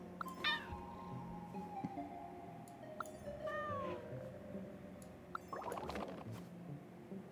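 Cat meows from a Genshin Impact game character, several short rising calls spread across the clip over a busy game soundtrack with background music and ambience, moderately close.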